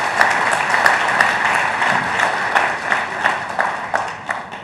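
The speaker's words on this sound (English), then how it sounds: "I think that warrants a round of applause" An audience at a talk with the Chief Justice of India breaks into a round of applause, many hands clapping steadily with a few distinct, sharper claps rising above the sustained wash throughout.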